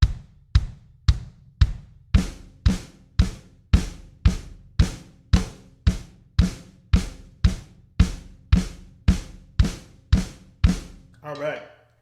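Snare drum struck with both sticks together at 115 beats per minute, a steady run of about twenty sharp, evenly spaced hits, close and loud, ending with a brief scrape.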